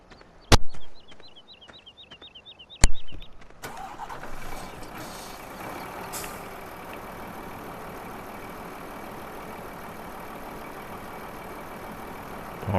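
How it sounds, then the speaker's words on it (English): A truck engine in Farming Simulator 15 cranks with a couple of sharp clicks and chirps, then settles into a steady, even idle that hums on alone for the rest of the stretch. "Just put my truck away for now."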